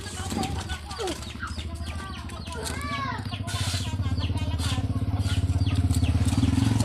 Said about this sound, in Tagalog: Anak, lumis kayo, may motor.